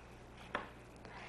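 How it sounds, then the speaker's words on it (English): A knife chopping food into chunks on a cutting board, two quiet crisp cuts spaced about half a second apart against a low background hum. "Cut it up in pretty good sized chunks."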